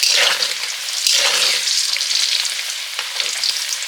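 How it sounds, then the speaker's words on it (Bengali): Diced potato and pumpkin fry for khichuri in a hot pan, giving a loud, steady sizzle with soft scraping stirs close by, no voices present. "এবারে খিচুড়ির সবজিগুলো ভেজে নিচ্ছি। আলু কুমড়ো"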